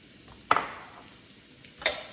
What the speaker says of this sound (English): To stir fry the carrots.